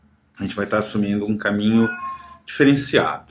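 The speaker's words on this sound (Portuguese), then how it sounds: "Esse é meu gato protestando contra o vídeo novo" A pet cat meows in protest while a person talks in Portuguese, its drawn-out cries mixed into and partly masked by the steady speech.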